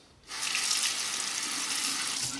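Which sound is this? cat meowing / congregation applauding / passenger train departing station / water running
water running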